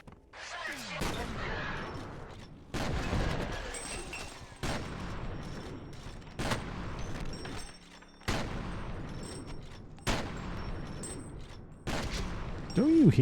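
Bursts of rapid gunfire in the video game F.E.A.R. come in repeated loud volleys separated by short pauses, with game effects in between.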